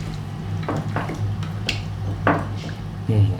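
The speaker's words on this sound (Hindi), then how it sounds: "तो अब हम इसको मिक्स कर लेते हैं।" A spoon mixes a marinade with spices in a bowl, close by, making a few scattered clinks and scrapes against the dish over a low background hum.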